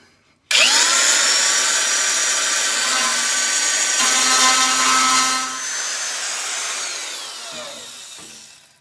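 A power drill widens a hole for a brake pedal in foot-control work on a custom car build, running in one loud, continuous, high whine for several seconds before winding down, close and alone.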